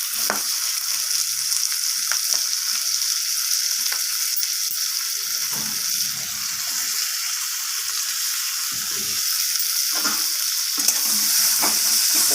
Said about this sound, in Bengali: পেঁয়াজটাকে এইভাবে নাড়াচাড়া করে ভেজে নিচ্ছি